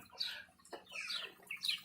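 A broody hen gives a few soft, throaty clucks and chirps in short bursts, close by and fairly quiet, with no talking.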